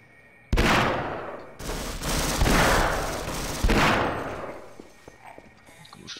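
Magnum revolver gunfire in the PC game Half-Life: a sharp initial blast followed by several more loud, booming shots with long reverberant tails, one after another over about four seconds, fading into quieter game ambience.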